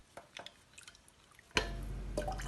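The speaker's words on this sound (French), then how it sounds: "je rajoute l'eau" Water from a large glass poured into a tagine sauce of minced meat, courgettes and potatoes, starting as a sudden steady pour after faint drips and clinks, close and alone.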